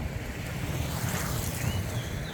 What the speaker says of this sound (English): The fountains are on.